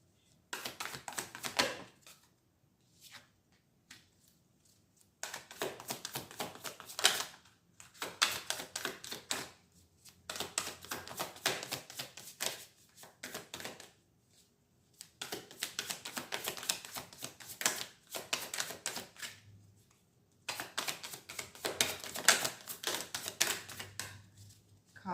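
Tarot cards are shuffled in repeated bursts of crisp, rapid riffling and flicking, each flurry lasting a couple of seconds with short pauses between, close and fairly quiet with no talking.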